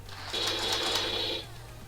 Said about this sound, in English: it actually does make sound effects when you fire it